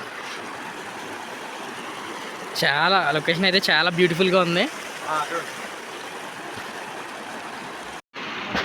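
Waterfall and stream water rushing near the falls at Maredumilli, a steady broadband roar throughout, with a person talking over it for a couple of seconds.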